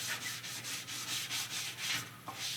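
Scuff pad rubbed back and forth over a shiny body panel of a 1955 Chevy Napco, a steady series of close, soft abrasive strokes with a quick regular rhythm and no talking.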